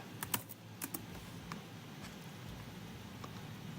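Computer keyboard typing in short bursts of quick, light clicks, fairly close but quiet, with a few isolated keystrokes spaced out after the opening flurry over steady low background hum.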